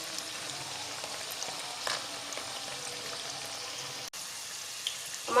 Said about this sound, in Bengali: আমার সমস্ত রোলগুলো ভাজা হয়ে গেছে।